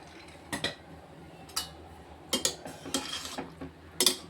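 Spoon scraping and clinking against a pot while pea rice is stirred, a few short scattered metallic scrapes and taps at close range with quiet pauses between, no talking.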